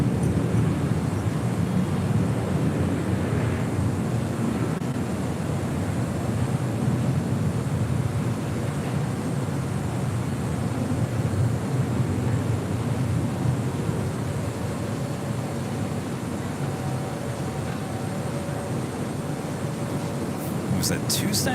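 Boeing 747 jets taxiing at LAX toward the Imperial Terminal in the South Complex produce a steady broad engine roar that holds at a constant level throughout, with someone talking over it.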